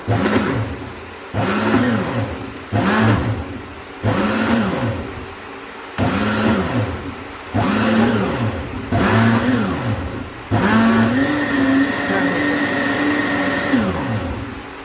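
A blender whips up a milkshake late at night, loud and close, whirring in short pulses that rise and fall in pitch before settling into a longer continuous run.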